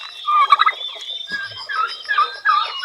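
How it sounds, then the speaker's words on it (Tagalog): A turkey gobbles close by, with several quick rattling gobble bursts repeated over a few seconds and little else in the background. "Makulit talaga itong pabunting."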